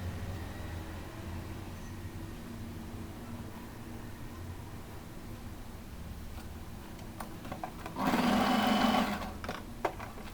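A sewing machine stitching a lined saree blouse runs in a brief, loud whirring burst near the end, following a quieter stretch of low room hum and faint clicks.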